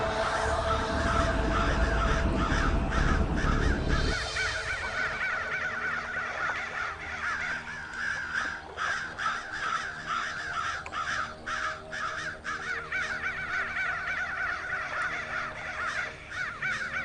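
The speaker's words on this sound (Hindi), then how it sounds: "इतना सारा कौवा उड़ रहा है, लेकिन एक भी कौवा खाना ही नहीं खा रहा।" A large flock of crows caws repeatedly, overlapping harsh calls in uneven bursts over a low rumbling backdrop in a horror drama scene, loud at first and continuing steadily throughout.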